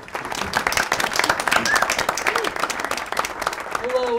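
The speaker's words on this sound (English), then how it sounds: "Let's give a big round of applause to two people" A studio audience at a movie trivia game show claps in dense, sustained applause across the whole span, close and lively, with a few brief cheers mixed in.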